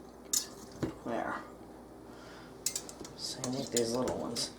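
A debubbling tool scrapes and clinks around the inside edges of a glass canning jar packed with green beans, giving several short glassy taps and scrapes with soft squishy movement between them.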